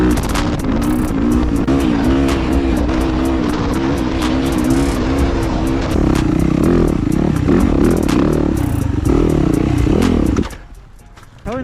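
A 450 race motorcycle ridden off-road through the desert, a loud close engine with rapidly rising and falling revs and clattering over rough ground, cutting out to near quiet at the end.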